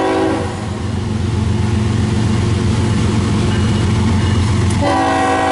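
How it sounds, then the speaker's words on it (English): A CSX freight train passes at a level crossing in Fostoria, Ohio, loud and close, its heavy rumble and rolling wagons steady throughout, with a blaring horn chord cutting in near the end. "It's a train. It's gonna be loud."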